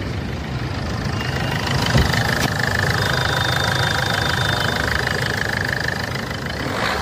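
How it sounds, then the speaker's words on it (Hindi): A Ford Figo, after a P0642 fault code was cleared, idles with a steady, even engine hum and a light mechanical ticking, heard close and alone for about seven seconds. "गाड़ी की आवाज़ बहुत अच्छी हो गई है"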